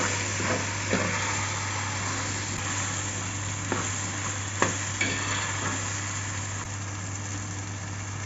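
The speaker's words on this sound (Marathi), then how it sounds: "त्यानंतर बटाटे टाकते हे चांगलं परतून घ्यायचं आहे" Potatoes stir-fry in a pan for a vegetable chikulya dish, giving a steady, even sizzle under a constant low hum, with a few faint scraping stirs at intervals.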